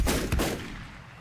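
Gunfire from enemies in the video game Volcanoids: a couple of quick sharp shots close together, then a fading tail, fairly quiet with no talk.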